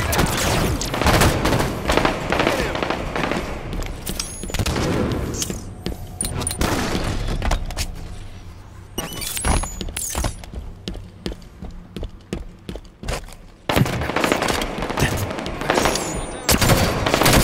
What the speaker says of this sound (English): Outside, he's under fire!